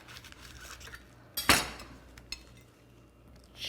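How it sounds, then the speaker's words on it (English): A knife slices a burger in half on a board, landing as one sharp, loud knock with a fainter clink of utensils afterward, and no voices. "I'm gonna actually cut it in half."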